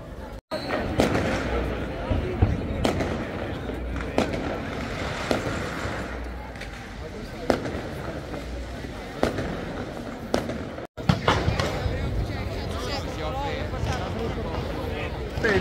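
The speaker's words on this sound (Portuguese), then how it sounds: "Os fogos acabaram de estourar por aqui." New Year's Eve fireworks bursting near the Colosseum in Rome, a dense continuous crackle with scattered sharp bangs, loud and sustained under a festive crowd and people talking nearby.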